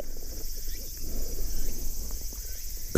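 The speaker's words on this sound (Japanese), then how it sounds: "セミの声が" Cicadas drone in a steady high buzz along a forest track, mixed with low rumbling from a large motorcycle. A sharp loud burst cuts in at the very end.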